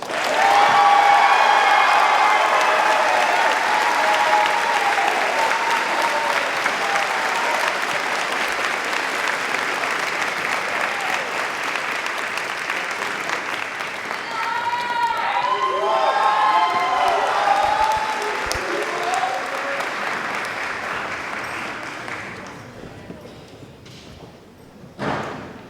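A large crowd at a graduation ceremony applauds steadily for a long stretch, with scattered cheers and voices mixed in before the clapping gradually tapers off.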